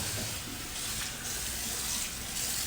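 Running water rinses out the dirty water container of a Bissell carpet cleaner, a steady splashing gush that stays even and close throughout.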